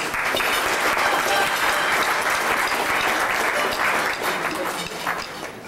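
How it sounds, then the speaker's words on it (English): Audience at a Purim gala held by Chabad of Boynton Beach breaks into loud, sustained applause, a dense wash of clapping that holds steady for several seconds before easing slightly at the end. "Please give them a round of applause."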